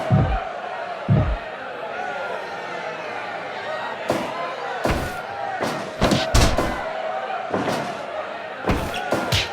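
Crowd noise from the wrestling video game Fire Pro Wrestling World hums steadily in the background, broken by repeated loud slams and thuds at irregular intervals, with commentators talking over it.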